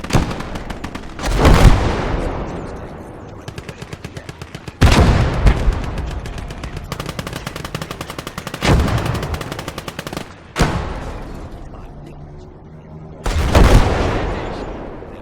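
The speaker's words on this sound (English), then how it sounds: "Stehen unter Beschuss durch feindlichen Panzer!" Enemy tank fire in the video game Siege of Caen: four heavy, loud cannon blasts spaced a few seconds apart, each with a sharp crack and a long rumbling decay, over a steady bed of battlefield noise.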